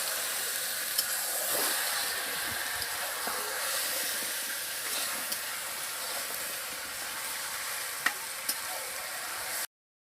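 Chicken and potato stir-fry with spices in a kadai, a continuous close hiss of sizzling oil with faint stirring clicks and occasional sharp taps, no talk, cutting off abruptly at the end.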